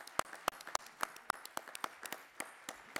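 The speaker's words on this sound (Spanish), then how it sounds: "les pido un fuerte aplauso para Galo" A small group claps in slow, separate, fairly faint claps with gaps between them, more a sparse round of applause than a full ovation.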